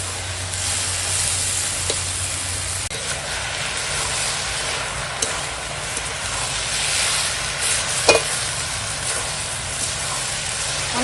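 Boiled radish and pumpkin leaves with bhetki fish bones and prawns sauté in their own released water in a pan, giving a constant hiss and sizzle with faint scrapes and a brief clatter partway through, close, no one talking.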